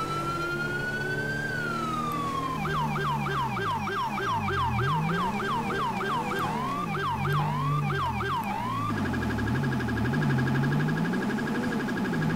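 A modded Rumbler police siren in Grand Theft Auto 5 wails, then switches to a fast yelp and later a rapid high-low pattern, loud and continuous over a low engine rumble, with no talking.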